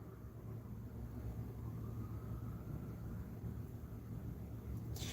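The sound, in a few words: airplane flying overhead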